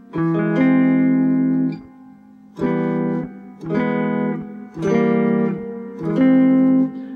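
Five strummed guitar triads ring out one after another with short gaps between them, each held and decaying: minor, major, diminished and augmented chords, loud and close with no voices.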